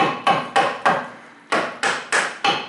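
A hammer strikes metal near a car drive shaft seal during drive axle and gearbox repair, eight sharp, evenly spaced blows with short ringing decays, close and loud with no talk.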